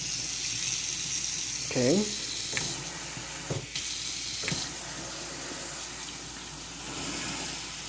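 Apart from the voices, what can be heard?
water running from kitchen pot filler faucet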